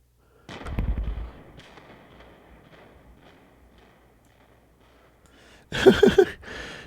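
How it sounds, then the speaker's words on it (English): A loud explosion sound effect bursts with a deep boom and rumbling decay, then after a quiet gap a second crackling blast follows, like fireworks or artillery, close and loud. "Did I just fire off a big explosion and scare the hell out of everybody?"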